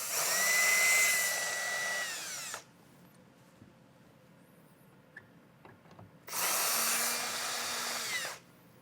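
A power drill backs out two Phillips head screws from the taillight of a 2023 Mitsubishi, two loud whirring runs of about two seconds each, separated by a quiet pause with faint handling clicks.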